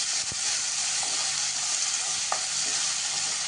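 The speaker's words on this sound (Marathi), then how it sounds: "कांदा आणि टोमॅटो असं मी एकदम घालते. ते जरा छान आपण परतून घेऊया." Onion and tomato sauté together in butter for dhaba-style paneer bhurji, a steady close sizzle with a few light spoon scrapes and knocks, no talk.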